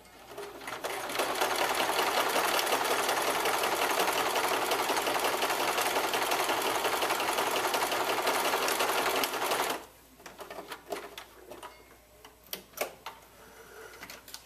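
A sewing machine runs fast and steady for about eight seconds, stitching stretched long underwear fabric held taut, then stops, leaving faint clicks and handling noises.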